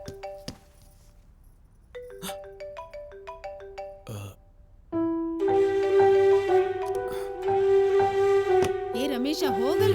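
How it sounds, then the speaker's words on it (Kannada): A mobile phone rings with a melodic ringtone of repeated tone sequences, starting sparse and growing fuller and louder, in a home scene from a Kannada film. "ಫೋನ್ ರಿಂಗ್ ಆಗ್ತಾ ಇದೆ ನೋಡು"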